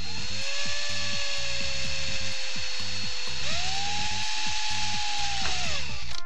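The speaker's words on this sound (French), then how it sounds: "Et puis on va percer tranquillement." Small drill boring into the air inlet slot of a Squape vape atomizer, a loud sustained whine whose pitch rises as the bit bites into the metal.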